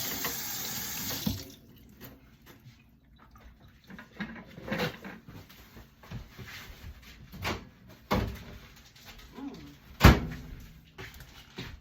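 Tap water runs briefly as a hand is rinsed under a faucet at a kitchen sink, followed by scattered clatters and a door or cupboard thumping shut in a quiet room.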